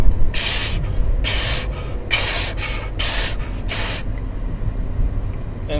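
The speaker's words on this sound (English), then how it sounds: "Put the hand sanitizer on." Hand sanitizer sprayed in six short, loud hissing bursts at a steady rhythm, close up, over low background rumble with no talk.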